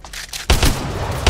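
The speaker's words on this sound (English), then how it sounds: "Hey, I'm getting shot." Loud, dense gunfire in the video game Apex Legends, a rapid burst of heavy booming shots close up that starts abruptly after a short lull and keeps rattling.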